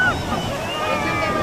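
A rushing wash of breaking waves and wind buffeting the microphone, with faint voices mixed in.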